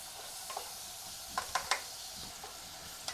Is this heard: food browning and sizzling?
yes